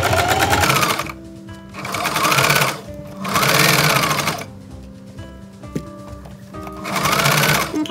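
Sewing machine stitching a baby sleeper seam, running in four distinct bursts separated by short pauses as it goes forward, reverses and continues, close and loud with no talking.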